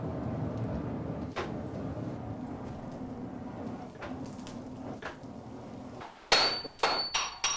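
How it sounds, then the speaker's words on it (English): Hammer blows on a steel block during Japanese sword forging ring out near the end, a few sharp heavy strikes in quick succession after a stretch of low background rumble. "The block is stretched by hammering it to double its original length before folding."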